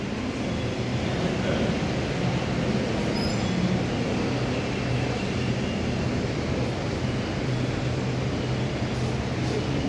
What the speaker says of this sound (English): on platform 6, a Waratah A set